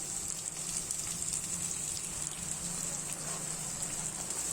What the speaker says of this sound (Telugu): అన్నీ వేగాలండి.